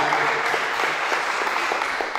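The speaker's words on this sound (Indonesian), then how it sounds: "tepuk tangan dulu, ya" Audience applause at a provincial meeting in Sorong, a steady wash of clapping hands filling the room from start to finish, with a faint voice underneath.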